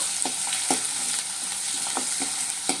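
Finely chopped onions and green chillies fry in a pan for beaten rice upma, a close, steady sizzle punctuated by quick rhythmic stirring taps and scrapes.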